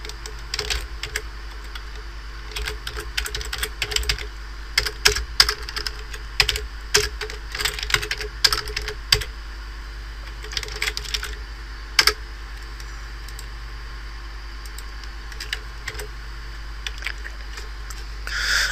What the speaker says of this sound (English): Now you need to type in the Subminium, address. I'll type it in.